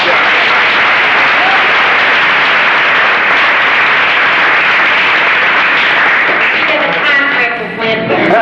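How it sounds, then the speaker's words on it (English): Steady, dense applause from a crowd, loud and continuous, thinning slightly near the end as a few cheers or voices poke through. "Everybody deserves a round of applause."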